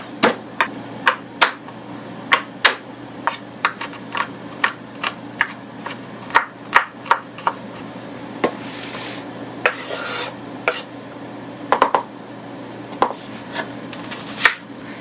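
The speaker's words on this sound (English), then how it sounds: "now we're going to go ahead and cut up our garlic." A knife cuts garlic on a board for Korean bulgogi, sharp knocking chops falling in an irregular rhythm over a quiet background, close and clear, with a brief scraping flurry midway.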